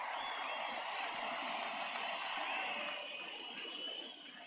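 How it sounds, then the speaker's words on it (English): A home crowd's ovation in a baseball video game, a steady wash of applause and cheering at moderate distance that fades slightly toward the end, with no talking over it. "he receives a nice ovation from this home crowd"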